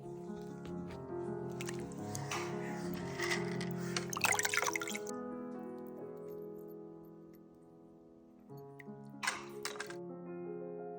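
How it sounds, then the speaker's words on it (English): Molten gold poured from a height into a full bucket of water, giving a long bubbling, squishing hiss with sputtering crackles that fades, then a second short burst of sizzling near the end. "we pour it from a distance into a full bucket of water, and this is going to create the casting grains"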